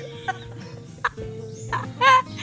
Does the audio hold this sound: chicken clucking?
yes